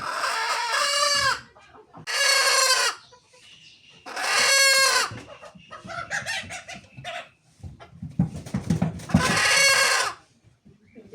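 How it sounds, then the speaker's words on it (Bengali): Village chickens cluck and squawk loudly in repeated bursts while being caught, with scuffling and a few voices in between. "মুরুকটা ধরো।"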